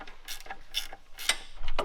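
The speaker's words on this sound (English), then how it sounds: "Just tightening up the last bolt for the power steering pump" A power steering pump bolt being tightened with a ratchet gives a short series of quick, close clicking bursts in an uneven rhythm.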